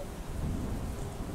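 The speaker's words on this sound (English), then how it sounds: "right now it is raining" Steady rain falls outside an art studio, a dense unbroken wash of drops with a low rumbling undertone, continuous and fairly loud throughout with no voices.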